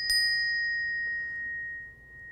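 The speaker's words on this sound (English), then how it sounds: "here's the Balinese bell" A Balinese bell struck once, giving a bright clear ring that sustains and slowly fades over about two seconds, fairly close and heard alone.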